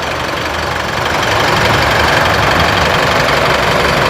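Loud, steady rumble of an Isuzu V-Cross pickup's 3,000 cc engine idling nearby, an even low throb that grows slightly stronger after the first second.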